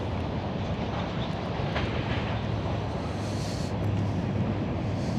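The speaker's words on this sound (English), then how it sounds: "A train is operating right now across those railroad tracks." A train rumbles past close by in Abingdon, Virginia, a loud continuous roar of wheels on rails with a dense, steady low-end drone throughout.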